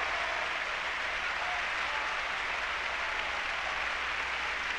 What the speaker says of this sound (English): Asks the orchestra to join him in accepting this applause.